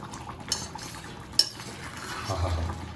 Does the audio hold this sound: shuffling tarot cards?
no